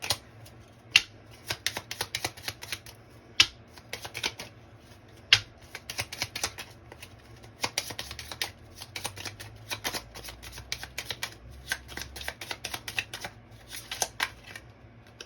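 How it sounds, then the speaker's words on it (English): A deck of hand-written cards is shuffled up close in repeated bursts, crisp riffling clatters and sharp snaps separated by brief pauses. "I have some random cards where I've written these signs, and I'm going to shuffle them to decide who goes next."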